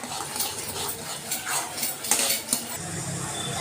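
A spoon scrapes and clinks against a pot while flour is stirred into salted boiling water, thickening, with a hissing boil underneath and a few sharper taps.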